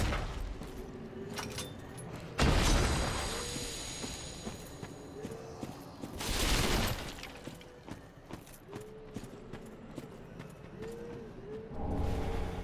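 Fire bomb explosions in the video game Dark Souls 3 burst out twice, loud and broadband, with a lower rumble of game ambience between them and a smaller burst near the end.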